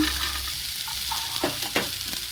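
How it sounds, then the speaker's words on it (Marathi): Green peas go into a hot frying pan with oil and spices, setting off a close, crackling sizzle and a few quick scrapes of stirring, with no speech. "आता मी याच्यामध्ये पाऊण वाटी वाटाणा टाकते"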